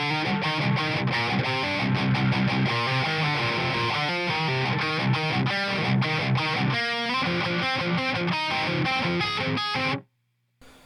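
Heavily distorted metal guitar intro of a song: dense, loud riffing with fast picked notes and steady rhythmic chugs for about ten seconds, then a sudden cut to near silence.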